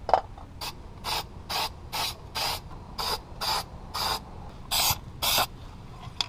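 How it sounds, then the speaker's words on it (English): Short, sharp bursts of spray paint hiss onto a long-term project car, about ten evenly spaced blasts in quick rhythm, close and fairly loud with brief quiet gaps between each pass. "Now it's time for the spraying."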